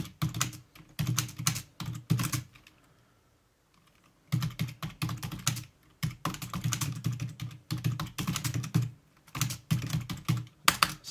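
Rapid typing on a Samsung S6 Lite keyboard, dense bursts of key clicks with a short pause in the middle, close and fairly loud.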